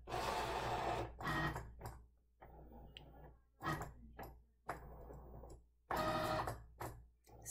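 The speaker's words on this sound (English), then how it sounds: "what the machine is doing right now is it is going around the large box that is around all of the images and the lines" A Cricut cutting machine runs its calibration pass, tracing around a large box of printed images and lines with quiet, intermittent motorized whirs and buzzes, short carriage moves separated by pauses and clicks, heard close without talk.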